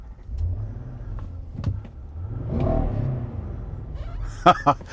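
A 2024 Nissan Patrol Warrior's 5.6 litre V8 with bimodal exhaust cranks and fires up, swelling into a rumbling rev that settles to idle, heard from inside the cabin, followed by a couple of sharp clicks.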